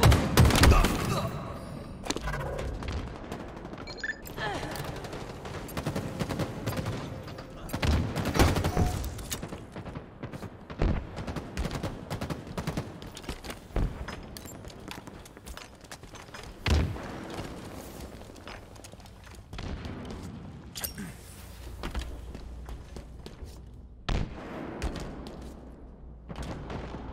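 Rapid gunfire and bursts from a Halo Infinite team deathmatch match, with repeated sharp shots, thuds and explosions over a dense battle din, intermittent loud peaks throughout.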